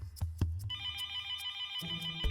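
A telephone bell starts ringing after a few soft knocks and keeps up a steady, loud, sustained ring to the end, with no voices.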